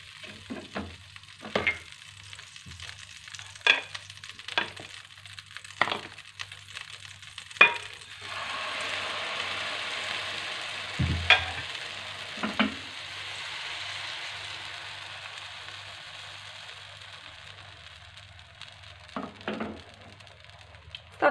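Flatbread frying in a buttered pan, a faint steady sizzle broken by scattered soft clicks and taps from the pan and utensil, no talking.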